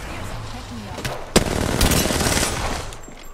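Gunfire in the battle royale shooter Apex Legends: a sharp close shot near the middle, followed by a dense burst of rapid automatic fire and a trailing rattle, with a brief voice faintly underneath.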